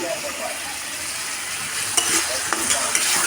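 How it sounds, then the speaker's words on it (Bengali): Spice paste with tomato pieces being stirred and fried for a Bengali koi fish curry: a steady close sizzle with scraping spoon strokes and a few sharper clicks near the end, no talk. "আমরা মশলাটাকে খুব ভালো করে কষিয়ে নেব"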